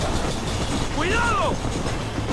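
A train rumbles along in the Red Dead video game, a dense continuous roar with a brief rising and falling whistle-like tone in the middle, loud and close, while voices talk over it.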